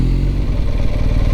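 A motorcycle rides a narrow mountain road over Passo della Forcella in Friuli. The engine drones loud and steady, close to the microphone, with a rattly clatter mixed in.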